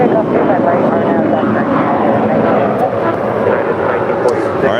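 Engines of a heavy United Airlines jet roar loud and steady as it takes off from runway 25 right at LAX, a dense continuous rumble for the whole stretch.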